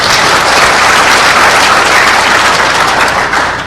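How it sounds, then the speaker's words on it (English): Audience at a hacking conference giving a round of applause, dense loud clapping held steady for several seconds before easing off, no voices. "let's give him a round of applause, too"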